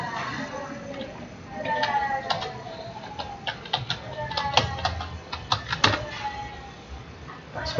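Someone types a password on a computer keyboard, a quick series of sharp, close clicks of uneven rhythm that runs throughout, with soft background noise.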